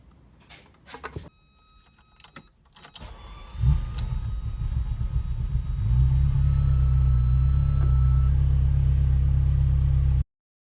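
Ferrari with a cold start problem: clicks and starter whirr, then the engine catches with a loud burst and settles into a deep, steady, close idle that grows stronger before cutting off.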